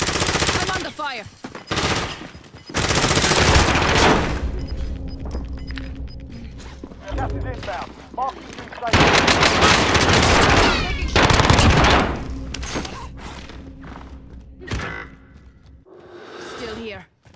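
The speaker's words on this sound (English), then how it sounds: "I'm under fire." Bursts of automatic gunfire in the Warzone battle royale game, loud and repeated in several long volleys with gaps between, mixed with game mechanical sounds and voice chatter.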